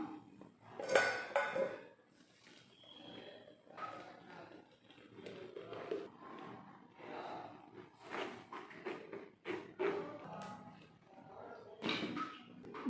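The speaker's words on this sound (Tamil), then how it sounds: "வடிகட்டிடலாம்." Blended pomegranate juice made with sugar and thick milk being strained in a kitchen, with clinks of utensils and a container against each other and soft pouring and scraping sounds, close up.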